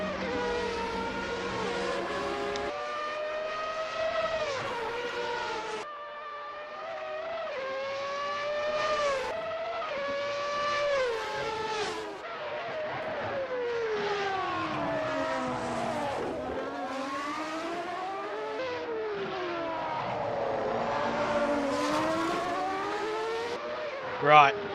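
Race car engines scream through a sim race of the 1991 Australian Grand Prix in Assetto Corsa. Several cars rev up and drop through gear changes in rising and falling whines, loud and continuous from start to finish.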